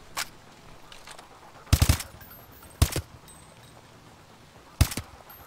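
Gunfire in Call of Duty: Advanced Warfare, three sharp bursts spaced a second or two apart with a lone faint shot before them, loud and close over a quiet background hum, with no talk.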